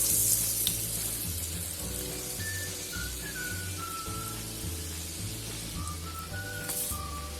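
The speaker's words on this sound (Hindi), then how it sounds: "तेल हमने गर्म होने के लिए रख दिया था। अब हम इसमें डालेंगे।" Potato balls frying in hot oil give a steady, close sizzle with soft bubbling, and faint whistle-like tones sound now and then above the crackle, with no voices.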